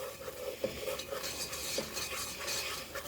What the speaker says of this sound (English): And you just want the flour to cook off.